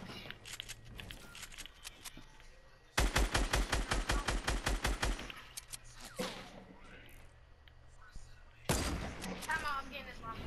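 Automatic gunfire in the video game Fortnite: loud, rapid volleys of evenly spaced shots, a long steady burst followed by a few shorter bursts, with some talk between them.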